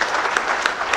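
An audience at a high-level climate change symposium applauds the panelists, a loud, dense round of clapping with a few sharper individual claps standing out, near and sustained throughout.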